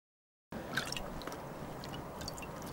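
Water poured and pressed onto a wool felt art piece, giving a steady wet dripping and squishing texture with small splashy taps, close and continuous after a brief silent start.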